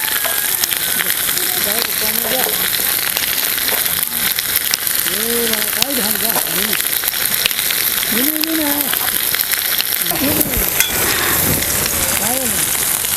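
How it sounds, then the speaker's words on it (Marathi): Okra and green chilies roast and sizzle in a pan, a loud continuous hiss with stirring scrapes, while a voice talks over it. "चांगले तारा तारा भाजायचं याला चिकट होत नाही बघा"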